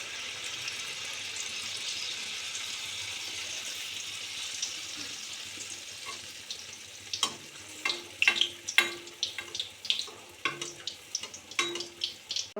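Malpua batter drops into hot white oil in a wok. A soft background hiss gives way to a run of sharp, crackling sizzle bursts that repeat close by over the second half, with no speech.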